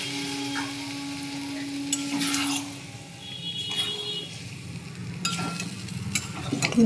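Boiled potatoes sizzle softly in a pan with spices while being stirred, with scraping stir strokes rising over a quiet, continuous frying hiss.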